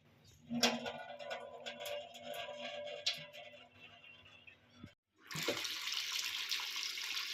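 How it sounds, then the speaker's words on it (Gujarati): Water splashes and trickles as soaked millet is rinsed in a vessel, with uneven close pouring and swishing, a brief lull, then a louder rush of running water to the end. "હજી એક આપણે પાણીથી ધોઈ નાખવાનું છે"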